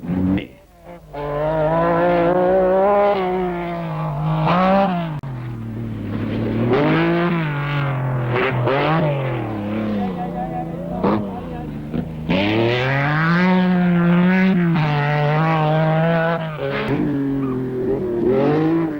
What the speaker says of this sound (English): Brion in the Stratos carves through the traffic.